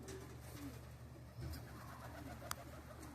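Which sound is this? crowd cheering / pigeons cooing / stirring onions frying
pigeons cooing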